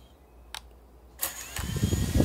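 A Hubsan Zino drone's motors spin up after a couple of faint clicks, the whirring rising and growing louder and rougher toward the end, close by.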